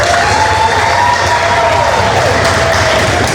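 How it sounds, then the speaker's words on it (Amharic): A large audience claps and cheers at an anniversary celebration of an Addis Ababa youth association, a dense, loud, continuous wash of applause and shouting that holds steady throughout. "ሞቅ ያለ ጭብጨባ ለአዲስ አበባ"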